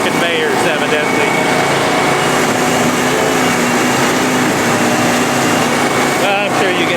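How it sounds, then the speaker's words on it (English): A farm machine's engine runs throttled up while driving its conveyors, giving a loud, constant mechanical drone and whir that continues unbroken throughout. "Always throttle your machine up before you start your conveyors, evidently."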